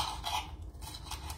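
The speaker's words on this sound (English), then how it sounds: "And I apologize for the noise on the glass cutting board" Knife cutting into strips on a glass cutting board while making tropical pineapple chicken, giving a few close, sharp clinking taps and scrapes in a quiet kitchen.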